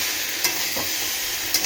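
Spices fry with tomato in a pan, giving a continuous hissing sizzle with a couple of short stirring scrapes, close and steady, with no talking.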